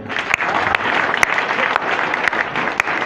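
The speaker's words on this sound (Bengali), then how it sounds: "তার জন্য আমাদের একটা মন থেকে সবাই করতালি দিবেন।" An audience claps together in a steady burst of applause lasting several seconds, with a few sharp louder claps standing out in the dense patter.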